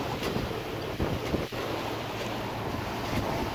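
Sailboat motoring on Chesapeake Bay during a solo sail, a constant roar of wind buffeting the microphone over washing waves and a low engine drone, with a couple of brief knocks; no voices.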